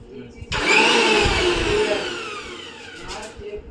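Masala being ground in a kitchen grinder, a loud whirring motor that kicks in abruptly, peaks, then slowly eases in pitch and strength as the mix breaks down, with voices faintly underneath.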